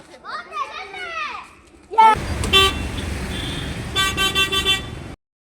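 A bus arrives and sounds its horn in several loud, close toots, after children's voices chatter and call out near the start, with engine noise underneath.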